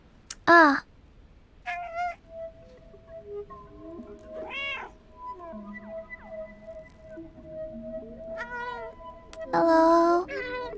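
A cat in a video game meows several times, the calls spaced apart by pauses, with a loud cluster near the start and a louder burst at the end over a faint steady background hum.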